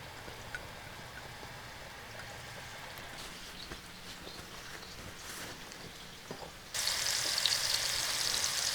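Lean meat frying in a small amount of oil, giving a steady low sizzle that grows louder and brighter near the end, with no talking.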